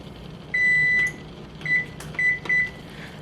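Electronic timer on a kitchen appliance beeping: one long tone followed by three shorter beeps in quick succession, loud and close in an otherwise quiet room.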